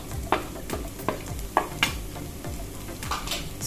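Turmeric and coriander powder are stirred in a pan over a low gas flame, with a soft sizzle under rhythmic scraping strokes roughly every half second and no speech.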